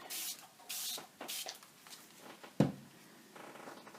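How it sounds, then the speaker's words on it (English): Several short hissing bursts of thick spray paint onto collage paper in quick succession, followed by a sharp knock and quieter rustling. "I'm going to spray that since that's paint is thicker."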